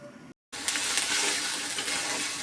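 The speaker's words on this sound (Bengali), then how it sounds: "এখানে একটা তেজপাতা দিয়েছি তার সাথে একটা জিরে ফোড়ন দিয়েছি দিয়ে পেঁয়াজ বাটা আর জিরে বাটা দিয়ে মশলাটাকে ভাজা ভাজা করছি" Onion and cumin paste masala frying with a bay leaf in a pan, a loud, continuous hiss and sizzle that resumes after a brief silent gap and stays close and steady.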